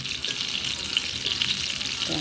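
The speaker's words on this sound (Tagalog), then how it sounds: "dito nagpiprito tayo ng embutido" Embutido sizzles and crackles in a hot pan, a close, continuous frying hiss with faint spatters.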